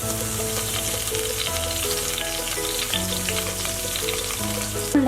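Garlic, shallots and curry leaves sizzle in hot oil for a brinjal stir fry, making a constant, crackling hiss beneath louder background music.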